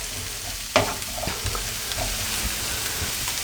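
Bell peppers fry in a pan with a steady, close sizzle, and a sharp stir or scrape of a utensil cuts in near the start; there is no speech.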